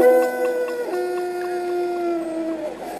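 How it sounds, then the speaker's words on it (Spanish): Dogs and wolves howl on the night steppe in long, sustained tonal wails that rise and fall, layered over one another and steady in loudness from nearby throughout. "Se pueden oír pues los sonidos de la naturaleza, perros aullando, lobos, el sonido de las grullas"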